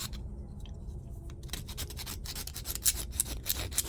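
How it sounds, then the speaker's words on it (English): A coarse round jeweler's file rasps around the inside of a 3D printed part, a quiet scrape at first, then a run of quick, rhythmic gritty strokes, close up with no talk. "I'm going to use a round file. It's a round jeweler's file, kind of coarse."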